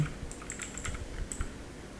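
Fast, steady typing on a computer keyboard while entering code, light clicky keystrokes tapping continuously at close range with no voices.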